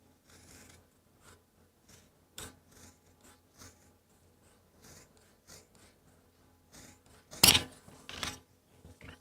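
Leather being cut for a knife sheath, heard as a series of quiet, irregular snipping and rasping cuts up close, with one louder, sharper cut near the end and no talking.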